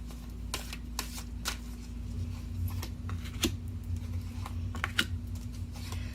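Tarot cards being shuffled and drawn by hand, heard as soft, close riffling and scattered crisp card snaps and taps over a quiet, steady background hum.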